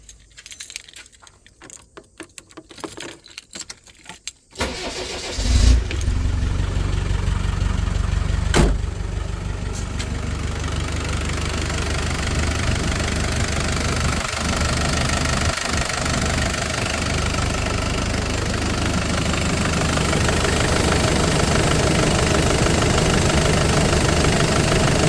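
A 1998 Land Rover Discovery 300Tdi diesel engine in Australian spec: keys jangle first, then the starter cranks and the engine catches, settling into a steady, loud, clattering diesel idle that runs unbroken for about twenty seconds.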